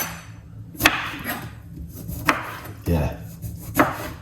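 Knife chopping a medium-sized lime on a cutting board while preparing a drink, four sharp, distinct cuts spaced about a second apart, close and fairly loud, with one brief spoken word.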